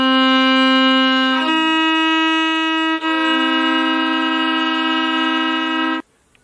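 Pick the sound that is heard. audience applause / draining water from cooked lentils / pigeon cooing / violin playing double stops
violin playing double stops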